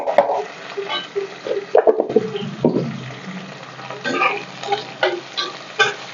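Onions frying in a pan with curry leaves, stirred with a spatula, giving repeated scraping strokes over a steady sizzle, close and moderately loud.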